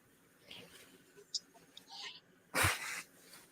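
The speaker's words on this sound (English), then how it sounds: "Sorry, I have to sneeze." A single sharp, loud sneeze bursts out near the end, close to the microphone, after quiet breathy sounds and faint vocal noises.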